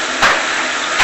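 Dirty water gushes steadily out of a pump outlet, a continuous broadband rush with a brief surge near the start and another at the end, close and loud with no talk.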